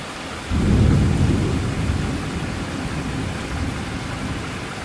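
A severe summer thunderstorm in Newburg, Pennsylvania: a loud, close thunder rumble surges in after half a second and slowly rolls off beneath steady heavy rain, with no voices.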